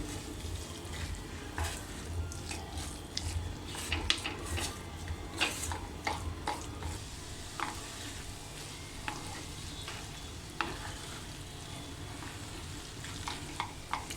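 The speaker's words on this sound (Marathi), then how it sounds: "आणि थोडी कोथिंबीर टाकून आपण हे असं परतून घ्यायचं आहे" Egg bhurji stir-frying with coriander in a pan over a low flame, a steady close sizzle and crackle running throughout with scattered scrapes and taps of a spatula against the pan.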